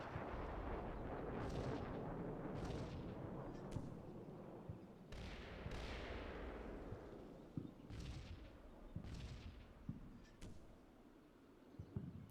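Repeated explosions and artillery-like booms rumble through a Combat Mission: Cold War battle during a Soviet motor rifle regiment river assault, several sharp blasts spaced a second or two apart, some followed by decaying rumbles, distant to mid-range, with no talk over them.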